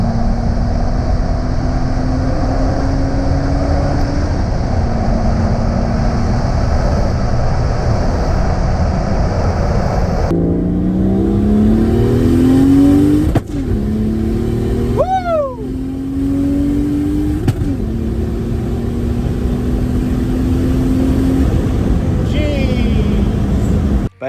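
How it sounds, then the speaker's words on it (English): A car fitted with large 680cc injectors and extra boost accelerates hard, its engine note climbing through the gears in rising sweeps with brief shift breaks, loud and close and heard alone. "I got the car to accelerate harder than ever before"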